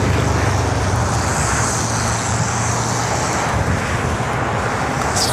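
Air France airliner at Los Angeles airport, a steady broad roar of jet engine noise filling the scene, loud and continuous with a distant rumble and no talk.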